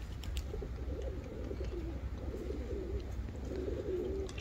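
Pigeons coo softly with repeated low, throaty calls, and a faint outdoor background runs beneath them, with no talk.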